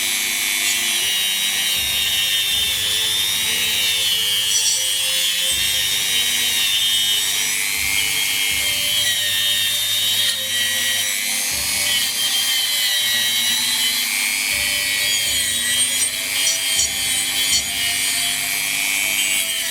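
A Dremel fitted with a wire wheel polishes brass clock weight hooks, giving a continuous high, whirring scrub that wavers slightly as the piece is turned, close and steady with no talking.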